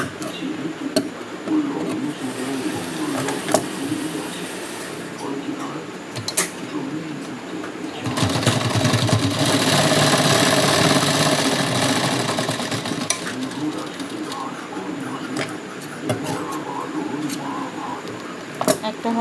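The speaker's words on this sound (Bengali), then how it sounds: "এইভাবে দুটো হাতাকে সেলাই করে নিতে হবে।" A sewing machine stitches blouse sleeves, ticking and clicking quietly at first, then running in a loud continuous whirring burst for several seconds before returning to intermittent light mechanical taps.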